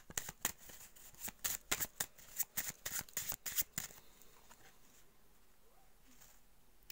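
Tarot cards being shuffled and drawn by hand: rapid, crisp riffling bursts in a quick irregular rhythm, close and fairly loud, stopping after a few seconds and leaving a quiet room with faint rustles.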